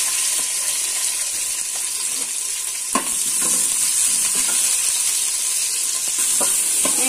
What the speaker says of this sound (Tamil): ஆயில் சூடானதும் ரெண்டு பட்டை கிராம்பு வெங்காயம்